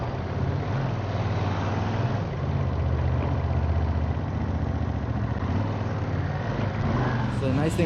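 A Ducati V2S motorcycle engine idles steadily with a low, even rumble close by, continuing without a break throughout.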